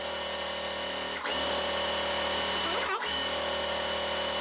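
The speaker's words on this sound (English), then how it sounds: "So I'm just gonna keep on sewing." A sewing machine sews half-square triangle quilt blocks in a loud, continuous whirring run, broken by two brief pauses before it resumes at full speed; no voices.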